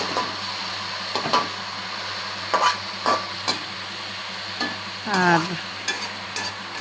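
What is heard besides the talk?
stir-frying daata shaak (amaranth stem greens) in a pan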